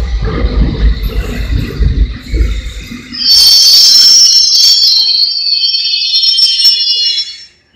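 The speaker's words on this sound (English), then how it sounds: "And train approaches from here." London Underground tube train arriving at a station: low rumble gives way to a loud, sustained high-pitched screech of wheels and brakes that fades away at the end, no talking.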